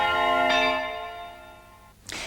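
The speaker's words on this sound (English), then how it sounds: "small, medium-sized, and large bells were exported from Leningrad" Large church bells from Leningrad ring out in a loud, resonant strike that decays slowly, followed by a second bright strike near the end.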